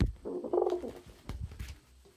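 A pigeon gives short, low, throaty coos nearby, with soft bumps and shuffling between the calls. Quiet pauses separate the coos.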